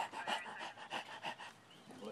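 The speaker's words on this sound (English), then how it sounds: "Dog's panting." A dog pants close by in quick, rhythmic breaths, about seven or eight soft huffs in a row, fairly quiet and alone.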